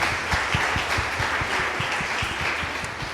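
An audience applauds steadily at a Portuguese-language Christian podcast recording. A dense spatter of claps holds evenly throughout with no voices over it.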